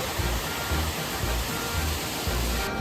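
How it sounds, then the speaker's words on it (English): Germany's highest waterfall, dropping 163 metres in stages, roars as a dense, steady rush of broadband water noise, loud and close, with a slow rhythmic surging underneath and no voices. "with Germany's highest waterfall, cascading 163 metres"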